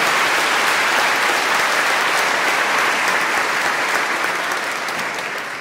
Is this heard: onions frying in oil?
no